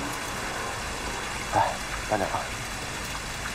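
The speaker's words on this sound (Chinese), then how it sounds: "外面下这么大雨" Heavy rain falling outside, a steady wash of rain noise throughout, with a woman calling out briefly over it.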